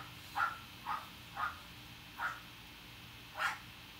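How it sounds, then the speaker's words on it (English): Dog across the street barking in five separate sharp yaps, spaced unevenly and moderately distant, over a quiet indoor background with no talking. "Oh, the dog that's loud, that's the dog across the street."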